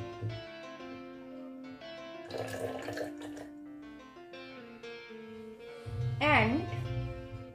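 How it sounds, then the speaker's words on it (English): Tap water runs into a measuring cylinder during a school soil practical, a continuous near stream heard under steady background music that swells toward the end. "I will take 50 ml of water in the measuring cylinder."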